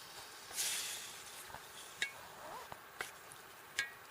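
Mushrooms sauté in butter in a skillet over a Firebox Nano camp stove, giving a faint, soft sizzle outdoors. A few light clinks and scrapes of a utensil against the pan stand out above it.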